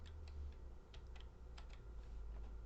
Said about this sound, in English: I'm typing 12.